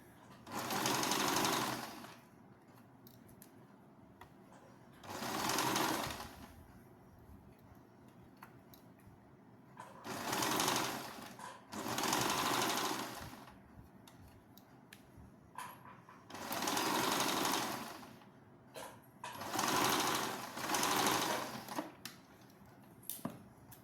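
A sewing machine stitching a round-neck gathered nightie with tie strings, running in six distinct bursts of rapid mechanical clatter separated by quiet pauses, close and fairly loud.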